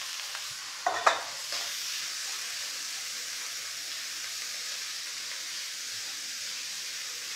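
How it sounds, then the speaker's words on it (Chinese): Shiitake mushrooms and chicken stir-frying in a pan give a soft, steady sizzling hiss, with a brief clatter of utensil on pan near the start, then an even, quiet frying sound to the end. "我们炒香那个冬菇先啊，然后我们就把那个鸡肉放进去"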